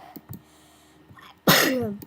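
A loud, close sneeze bursts out alone near the end after a short quiet stretch with faint coughs and breaths, during a Minecraft live stream.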